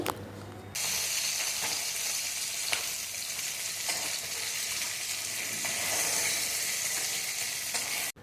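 Vegetables for Bengali shukto, such as drumstick, potato and sweet potato, frying in hot oil in a pan, with a steady loud sizzle that runs the whole time without pause.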